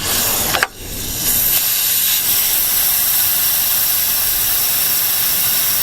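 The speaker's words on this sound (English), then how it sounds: "So let's go ahead, shoot a little brake clean in there." Brake cleaner sprayed from an aerosol can into an old, worn fuel line on a junkyard Chevelle, a steady loud hiss running unbroken for several seconds after a brief initial burst.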